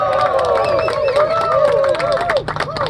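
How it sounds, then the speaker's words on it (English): A rally crowd backing congestion pricing claps and cheers, with loud whoops and shouting voices riding over a busy mix of clapping and chatter close by. "let's give him a round of applause"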